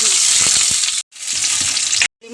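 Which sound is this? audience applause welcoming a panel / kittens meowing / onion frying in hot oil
onion frying in hot oil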